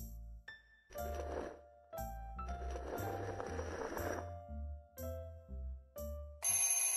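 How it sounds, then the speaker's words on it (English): A chess clock rings with a repeated electronic ringtone-like chime, clear and bright, sounding in a steady sequence of short bursts and ending in a harsher, buzzing ring. "Ringing. It's a chess clock."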